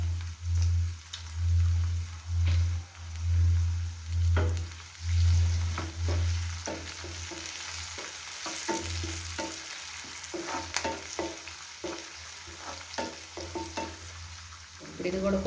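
Curry leaves fry in hot oil while a spoon stirs them through a prawn gongura curry, giving a steady sizzle and crackle with scraping strokes and small pops, close and continuous.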